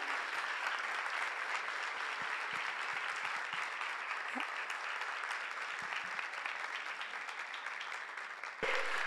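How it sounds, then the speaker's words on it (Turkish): Studio audience on a morning television show breaks into strong, continuous applause, a thick steady roar of many clapping hands that stays loud to the end, with a brief bump near the close. "şöyle bir güçlü bir alkış alalım mı be?"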